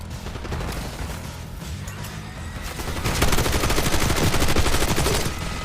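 Dense, sustained machine gun fire from a Call of Duty Black Ops 6 campaign battle on PS5, loud and continuous with rapid overlapping bursts that intensify toward the end.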